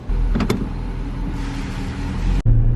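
An R32 Nissan Skyline starts to drive off after brake work, with a low engine rumble and a whirring mechanical sound, a couple of brief clicks early on and an abrupt cut near the end.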